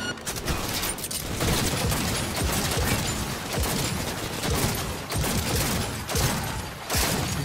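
Gunfire from a weapon in Cyberpunk 2077: dense, continuous rapid shots roll on for several seconds with brief gaps between bursts, loud and close with no talking.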